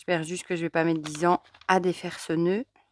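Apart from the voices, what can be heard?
No distinct noise like a dog, phone or traffic.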